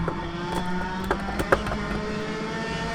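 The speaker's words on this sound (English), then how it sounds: "Oh god, the engines are so loud." Kart racing engines in a VR karting video game drone loudly and continuously, a buzzing motor whine with a few sharp clicks and knocks on top.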